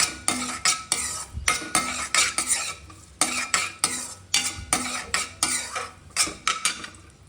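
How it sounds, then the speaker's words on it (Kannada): Frying in a pan while making shavige payasa, with raisins in the pan, brings quick rhythmic scrapes and clinks of a spoon against metal, repeated about twice a second, over a light sizzle and without speech. "ಚೆನ್ನಾಗಿ ಫ್ರೈ ಮಾಡ್ಕೊಳ್ಳಿ."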